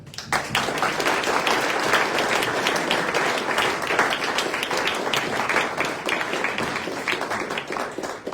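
A room of Rotary club members applauding to welcome a new member, sustained dense clapping that stays loud and even for several seconds before thinning slightly at the end.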